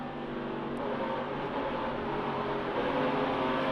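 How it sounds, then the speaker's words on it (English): Race truck engine in a NASCAR Craftsman Truck Series race, a steady loud broadband roar as the driver pedals the throttle, the drone holding nearly level throughout with no voices. "You heard him pedaling that throttle."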